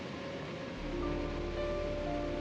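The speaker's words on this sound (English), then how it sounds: "Fed from the waters of Easdale Tarn is the spectacular waterfall Sour Milk Gill." Sour Milk Gill, a foaming waterfall fed by Easdale Tarn in the English Lake District, gives a steady soft rush of falling water heard from a distance, faint and continuous, with a low wind-like roar coming in partway.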